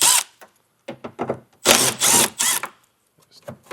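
A power drill removes 10 millimeter fasteners under a 2020 Lexus RX 450h, sounding as several short, close bursts of whirring, with brief pauses between them.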